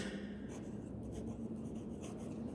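Pen or pencil writing on paper in a classroom lesson, a steady soft scratching that runs continuously and close, with no talk over it.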